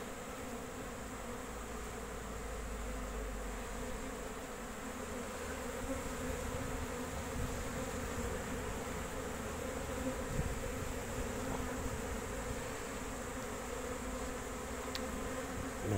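Honeybees buzzing near a beehive in spring, a continuous, steady drone from many insects, fairly faint and even throughout with no voices.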